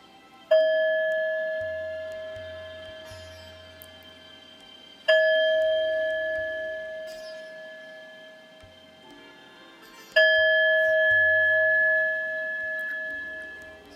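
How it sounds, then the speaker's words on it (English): A meditation bell rings three times at slow, even intervals, each strike clear and resonant, its tone lingering and slowly fading before the next. "We will begin this practice by inviting the bell."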